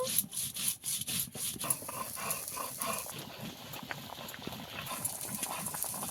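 Cumin seeds ground by hand into a fine paste on a flat grinding stone, a steady scraping and rubbing rasp repeating in rhythmic strokes, close and fairly loud, with no talk.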